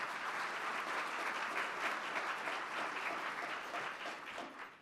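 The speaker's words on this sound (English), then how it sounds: "let's give our sponsors all a round of applause for their support" An audience at a club meeting gives a steady round of applause for its sponsors, a dense, moderately distant clatter of many hands lasting several seconds before tapering off at the end.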